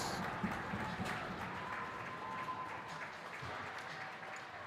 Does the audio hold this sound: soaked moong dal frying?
no